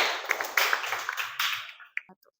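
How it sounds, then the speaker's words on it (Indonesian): A classroom of students claps hands together, a brisk, uneven burst of many claps that trails off into a few scattered, faint last claps and brief murmurs. "Baik, tepuk tangan dulu."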